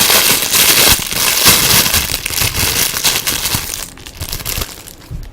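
Crinkly plastic wrapping is torn and crumpled off a Toad action figure, loud and close, with continuous crackling and rustling that thins out toward the end.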